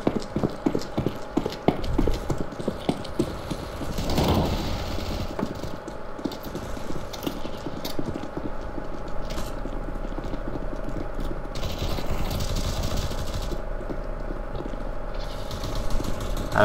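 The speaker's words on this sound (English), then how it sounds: "I heard some footsteps." Footsteps in the game Counter-Strike: Global Offensive, a run of soft, steady thudding steps close by under a constant background of game ambience and engine-like hum, with no talk.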